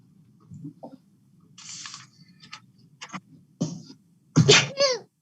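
A single loud sneeze bursts out near the end, preceded by sniffs and short breathy sounds in a quiet room during an online borough council meeting.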